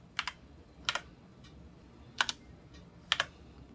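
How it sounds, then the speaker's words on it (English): Keystrokes on a computer keyboard during radio station log software entry, four short clusters of quick clicks spaced apart, moderately close and fairly quiet, no voices. "It's just another text field that I can type into."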